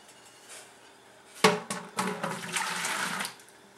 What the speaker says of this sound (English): it says to dump it into your bottling container